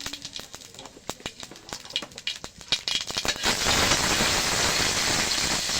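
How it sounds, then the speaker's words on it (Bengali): Cumin seeds tossed into hot oil in a wok give scattered sharp crackles and pops that swell into a dense, steady close sizzle, with no talk. "আমি কটা জিরে নিয়েছি জিরে ফোড়ন দিয়ে দেব"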